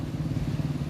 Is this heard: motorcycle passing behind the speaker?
yes